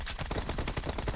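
Rapid gunfire in PUBG Mobile, a quick burst of sharp shots lasting about a second, loud and close, with no talk over it.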